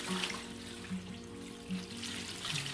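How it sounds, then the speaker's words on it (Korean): Dissolved salt water poured for young radish water kimchi gives a soft, steady watery trickle and splash, fairly faint and heard alone. "녹인 소금물을 부어주세요"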